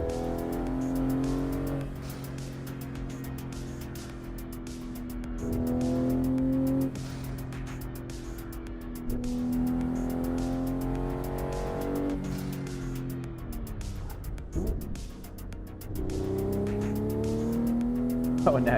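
A car in the Assetto Corsa racing game revs and shifts through gears with sustained tire squeal, engine pitch climbing and dropping repeatedly over nearly twenty seconds, loud and continuous without speech.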